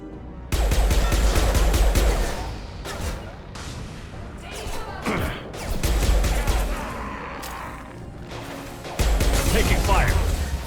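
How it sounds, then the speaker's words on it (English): Bursts of gunfire in Mass Effect 2, heavy volleys of rapid shots arriving in loud clusters with quieter gaps between, mixed with combat clatter and voices talking over the action. "Taking fire."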